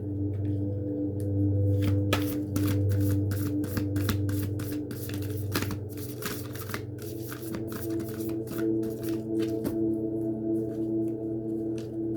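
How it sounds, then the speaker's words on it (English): Oracle of the Hidden Worlds oracle cards shuffled up close, crisp repeated riffling flicks in a steady rhythm over a low background hum, no talking. "we're going to go ahead and get one of the Oracle of the Hidden Worlds card for you."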